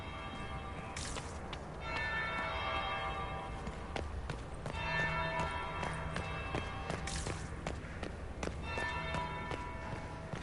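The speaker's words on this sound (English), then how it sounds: "That would be the second bell." A church bell tolls repeatedly in Dragon Age Inquisition, its ringing strikes layered over game ambience and footstep-like patter, moderately loud with no talk.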